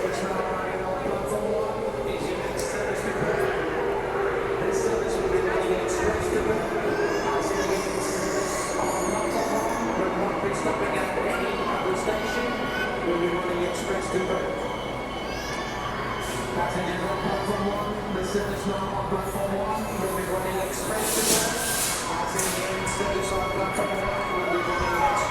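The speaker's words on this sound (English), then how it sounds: "Wait for the train to depart." A Transperth B-series electric train departs a station, a steady rolling rumble with rising motor whine, squealing wheels and rail clicks, close and continuous, with people talking.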